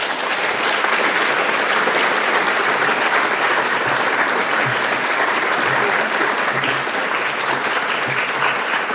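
A lecture audience at the Frick applauds to welcome a speaker to the podium, dense sustained clapping filling the room at a steady loud level throughout.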